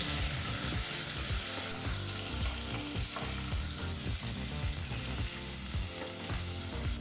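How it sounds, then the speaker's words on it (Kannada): Chopped onions frying in a pan over a medium flame, a steady, close sizzle with scraping stirs and background music throughout. "ಮೀಡಿಯಂ ಫ್ಲೇಮ್ನಲ್ಲೇ ಈರುಳ್ಳಿನೆಲ್ಲ ಫ್ರೈ ಮಾಡ್ಕೋಬೇಕು"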